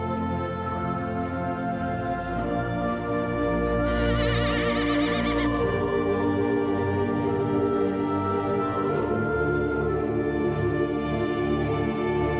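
Wild Exmoor horses neigh and whinny across open steppe grassland, a loud whinny standing out briefly amid a dense, continuous outdoor background of animal and ambient sound, with no talk.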